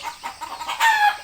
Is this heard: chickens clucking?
yes